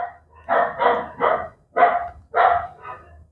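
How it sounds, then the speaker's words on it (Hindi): Dogs bark in a quick series of five or six loud, close woofs, spaced irregularly with short pauses and no talking over them. "कुत्ते भौंक रहे हैं तो भौंकने दीजिए"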